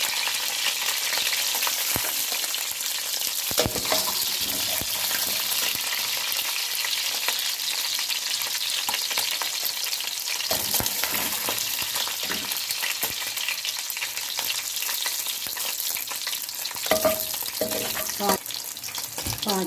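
Chicken fries in a pan for restaurant-style yakhni pulao, giving a continuous bright sizzle with occasional stirring scrapes and clinks, close and steady throughout.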